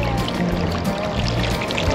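Water gushing and splashing out of a kayak on a small river, a continuous pouring, trickling rush with bubbling texture, close and moderately loud, with no talking.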